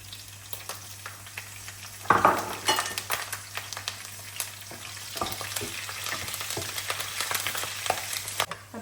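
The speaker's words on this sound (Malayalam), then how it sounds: "ഇനി നമുക്ക് അതുപോലെ തന്നെ എടുത്തു വെച്ച് ഈ പച്ചമുളകും കൂടെ ഒന്ന് ഫ്രൈ ചെയ്യാം." Green chillies fry in hot oil for a chicken pickle, a steady crackling sizzle with a sharp burst as they go in and scattered spatters and stirring taps after.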